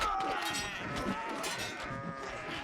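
Goats bleating in the Kenshi video game, a cluster of overlapping wavering bleats fairly loud over ambient game sound.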